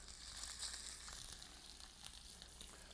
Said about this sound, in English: Those are sizzling up nicely.